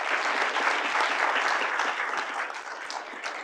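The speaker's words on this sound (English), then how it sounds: "Round of applause for them." An audience at a Walleye Tank event applauds the junior judges with a dense, steady wash of clapping, loud and even, easing slightly toward the end.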